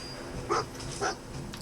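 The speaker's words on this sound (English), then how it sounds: "Oh, but dog meat's going crazy." Dogmeat, the dog companion in Fallout 4, lets out two short, faint barks about half a second apart over a low, steady game background.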